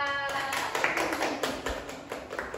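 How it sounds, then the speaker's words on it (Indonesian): Scattered applause for a speaker from a small audience, with a mix of claps and taps at moderate volume, fairly quiet overall and carrying on for a couple of seconds. "Oke, beri tepuk tangan buat Mbak Salsa."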